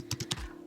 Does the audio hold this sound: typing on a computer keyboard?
yes